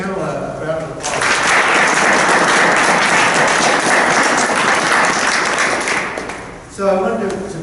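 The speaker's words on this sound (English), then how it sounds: "let's give the panel a round of applause" An audience at a panel discussion on globalization breaks into a dense, sustained round of applause lasting several seconds, loud and even before fading, with a voice speaking just before and after.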